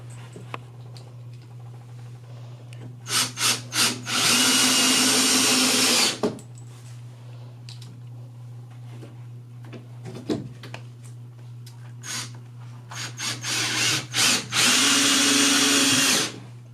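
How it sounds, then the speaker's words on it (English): A power drill driving screws into wooden bed slats, with short trigger blips followed by two long, loud whirring bursts separated by quiet pauses. "I've got 4 last screws to install here"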